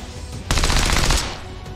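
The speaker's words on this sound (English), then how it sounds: "I'm gonna pistol her." A burst of gunfire in XCOM 2, a dense crackle of rapid shots lasting under a second, loud and close, then trailing off into a faint rumble, with no voices.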